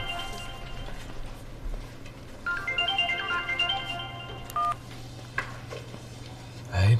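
A telephone rings for an incoming call: a short melodic ringtone phrase plays midway through a quiet indoor room, with a few faint knocks around it.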